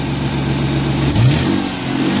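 A close, loud engine bay recording of a 40th Edition Ford Mustang at a steady idle. One quick rev swells partway through and settles back to a lumpy idle, with no voices.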